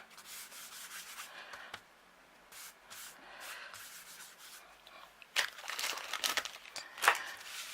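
An anti-static embossing buddy pouch rubbed across a card before Versamark inking, giving soft, quiet sanding-like brushing strokes in bursts, with louder scrubbing passes near the end.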